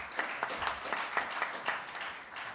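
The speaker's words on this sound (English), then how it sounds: "please give them a big round of applause." Sparse applause from a conference audience after an agricultural innovation session, a handful of distinct claps standing out over a thinner patter, fairly quiet and brief.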